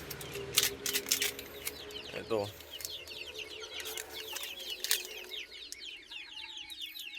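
Australorp chickens clucking and squawking nearby, with scattered calls and a brief flutter of wings, busy and irregular.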